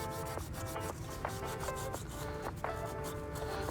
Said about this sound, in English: I'm just using a Scotch-Brite Brillo pad here to lightly clean the surface of any rust and old gasket material